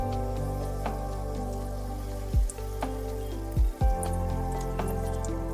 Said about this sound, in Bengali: একে একে এইভাবে পনিরের পুর দেয়া পাঁপড়গুলো ভেজে নিতে হবে।